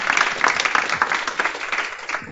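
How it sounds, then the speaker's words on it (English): An audience applauds at the close of a gender-equity and climate-commitments event, a dense, steady patter of clapping lasting a couple of seconds, fairly loud and close throughout. "Please give them another round of applause."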